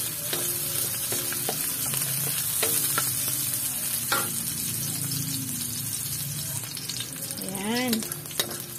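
Onion and garlic sauté in a pan, giving a steady moderate sizzle with the occasional scrape and tap of a stirring utensil, and a brief whistling squeak near the end.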